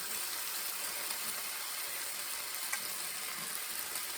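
A stir fry sizzles and crackles in a pan on a Rayburn range, a steady dense hiss that stays constant throughout with no talking.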